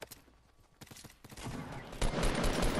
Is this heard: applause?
no